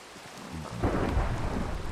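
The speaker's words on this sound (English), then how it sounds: "It's a thunderstorm." Thunderstorm in Minecraft: a deep thunder rumble swells and rolls beneath steady rain hiss, growing louder partway through and staying heavy.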